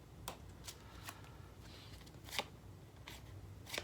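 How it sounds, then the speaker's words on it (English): Cards being drawn from a deck during a tabletop board game, giving a few quiet papery slides and flicks spaced apart, soft and close with no talking. "let's go ahead and draw 3 more cards."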